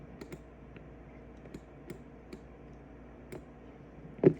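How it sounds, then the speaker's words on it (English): Small clicking cue marking a charged focus attack in the Naraka Bladepoint video game: a handful of faint, sparse ticks and clicks over quiet game ambience, with a slightly louder knock at the end and no talking. "every time your focus attack is actually charged, it's going to make that blue like a little clicking sound"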